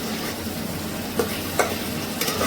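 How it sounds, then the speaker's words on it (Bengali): Katla fish and cauliflower sautéing in a pan, a continuous close sizzle broken by a few sharp scrapes or clinks of stirring. "এবার এটা ভালো করে কষে নিচ্ছি।"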